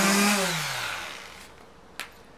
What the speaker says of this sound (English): So what we're doing is we're stripping it back with our sander.